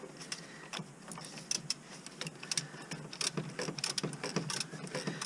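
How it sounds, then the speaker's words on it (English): A socket wrench ratchets an oil filter cartridge down on a Chevy Sonic, giving a fast run of close, dry mechanical clicks in uneven bursts. No one speaks over it. "I'm going to crank it down with the rest of the wrench,"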